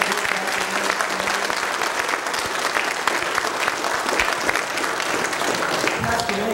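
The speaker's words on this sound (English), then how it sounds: "Give him another round of applause" A church congregation applauds an orchestra at a Christmas ensemble service, continuous close clapping at a steady level with faint voices mixed into the crowd.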